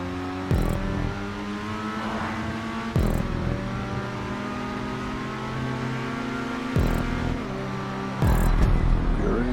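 Grotti Itali RSX car engine in GTA 5 revving hard and steadily, with sharp gear shifts breaking the drone every few seconds; loud and close, no talk.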